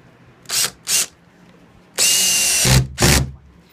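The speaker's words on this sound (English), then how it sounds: "that's where you're going to screw the drywall into the wall." A power drill drives screws through drywall into wall studs in short bursts: two quick whirs, then a longer sustained buzz followed by two more brief spins, loud and close.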